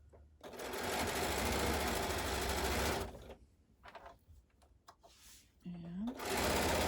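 A sewing machine stitches quilt patches together, running loud and steady for about three seconds, pausing while fabric is shifted, then starting up again near the end.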